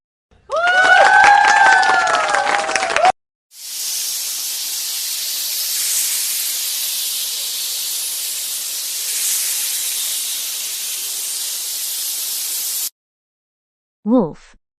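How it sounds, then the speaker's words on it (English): A snake's long, steady hiss runs for roughly nine seconds, loud and close. Brief unrelated animal calls sit on either side of it. "Snake."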